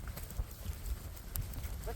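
A young mare's hooves clip-clop on open steppe ground, a few uneven close knocks over a couple of seconds under steady background noise, with a snort or whinny-like note near the end.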